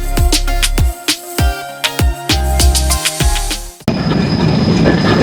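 Jahanabad Express rumbling over the rails into Bhanga Junction in Faridpur, with loud rhythmic clickety-clack of wheels on joints and some squealing, ending in a steadier broadband roar.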